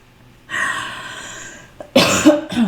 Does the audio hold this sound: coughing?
yes